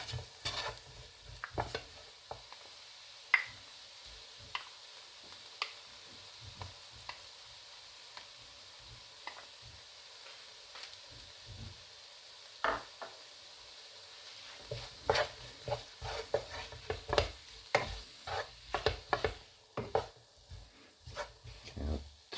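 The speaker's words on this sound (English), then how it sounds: "I'll just go in with my tomatoes and my tomato puree" Fresh tomatoes cooking in a pan for shakshuka, a quiet sizzle under irregular stirring scrapes and clinks of a utensil against the pan, growing busier toward the end.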